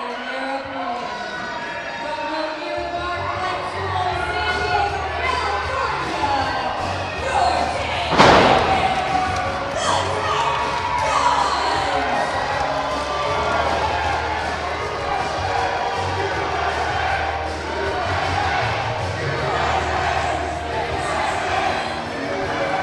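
A wrestling arena crowd roars and cheers steadily throughout, with a sharp slam or thud near the middle and a low rumbling bed beneath.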